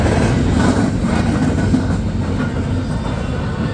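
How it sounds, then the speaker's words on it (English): A CSX intermodal freight train rolls past on the two track of the New Castle Subdivision, a loud, steady close rumble of rail cars with continuous clickety-clack and no voices. "This is CSX for, I guess, Baltimore, Ohio. And he's approaching."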